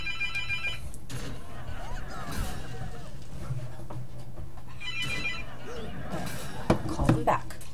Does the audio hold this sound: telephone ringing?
yes